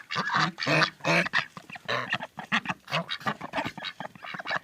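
A dense flock of ducks quacking loudly and continuously, many overlapping calls close by with no pauses.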